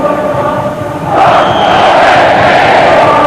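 Raucous home crowd at a 1992 college football game, Baylor at Texas A&M, roars loudly in a stadium; a low rumble swells into a sustained, dense wall of cheering and yelling.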